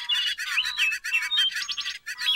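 A voice imitates a bird, whistling in bright, warbling, chirpy bursts with short pauses in a children's animated Thomas and Friends episode, clear and close with no talk over it.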